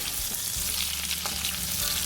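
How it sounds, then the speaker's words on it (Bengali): Boiled, peeled potato halves coated in salt and turmeric fry in a pan, making a dense, loud, even sizzle from start to finish with no speech. "আমি একটু ভেজে নেব।"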